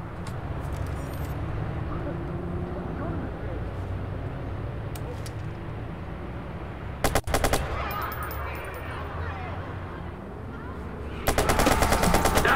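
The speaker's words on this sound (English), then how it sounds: "That's a gun!" Gunfire in the video game Watch Dogs: short bursts of rapid automatic shots cut through steady game noise and talk, with a louder sustained burst at the end.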